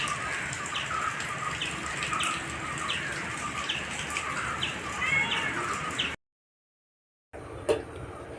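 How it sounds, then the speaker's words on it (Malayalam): Light rain hisses steadily outdoors while small birds chirp now and then; the sound cuts out briefly before the rain returns. "പുറത്ത് ചെറുതായിട്ട് മഴ പെയ്യുന്നുണ്ട്"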